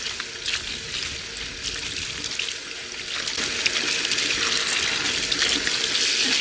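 Water runs steadily from a tap as a dried luffa sponge is rinsed under it, a close, continuous splashing stream that grows slightly louder partway through.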